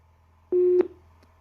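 A telephone line gives a single short busy tone, a steady electronic beep lasting about a quarter second and ending abruptly, over a low constant hum.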